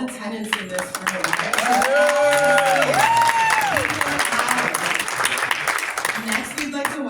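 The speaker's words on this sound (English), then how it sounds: "Another round of applause for all the tenants in this room" A crowd of tenants at a tenant conference claps and cheers, with dense applause rolling throughout while voices and a rising whoop or two sound over the clapping.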